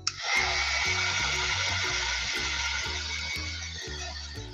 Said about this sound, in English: So we're gonna use the heat gun again.